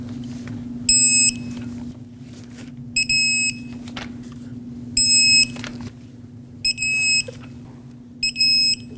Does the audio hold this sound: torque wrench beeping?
yes